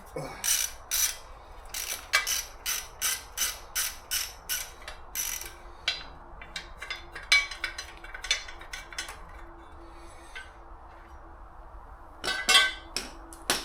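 A ratchet wrench loosens a front bolt on a car during front-end work around the headlights and radiator. Rapid bursts of close clicking come in a regular back-and-forth rhythm, then give way to irregular clicks and metal clinks with pauses.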